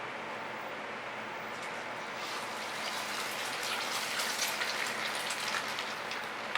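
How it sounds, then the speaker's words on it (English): Food frying in a hot, smoking pan on a gas cooktop, a steady crackling sizzle that grows slightly stronger, quiet and continuous. "We'll just fry this up real quick"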